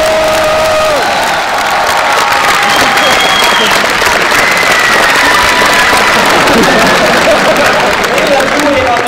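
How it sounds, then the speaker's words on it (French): A crowd gives loud, dense applause for a troupe of performers, sustained clapping and cheering with whistles on top, close and continuous for the whole stretch. "Chers amis, je vous demande d'applaudir très fort les joueurs du grenier."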